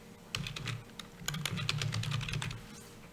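Typing on a computer keyboard at close range, quick irregular bursts of clicky keystrokes, quiet overall, with a brief pause before a second faster run of keys.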